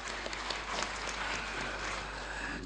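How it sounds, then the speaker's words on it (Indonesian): An audience claps for the speakers at a Pancasila congress session, a steady, dense spatter of applause that holds evenly throughout, with no voices rising above it. "mari kita beri tepuk tangan dulu kepada para pembicara"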